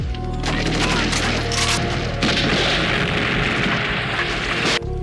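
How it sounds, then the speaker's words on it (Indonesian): M79 grenade launcher fire and explosion effect in a Vietnam War scene with US Marines against the Viet Cong: a heavy booming blast with crackling, rumbling fire that rolls on loudly for several seconds before cutting off. "DiNardo yang segera mengarahkan M79-nya ke kamar Kapten Williams"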